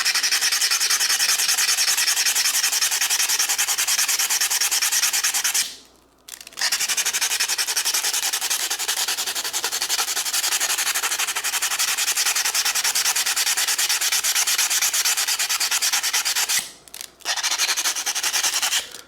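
Abrasive pad scrubbing rust off the carbon steel blade of an Opinel knife, a loud, steady rasping rub that runs almost continuously, broken by two brief pauses.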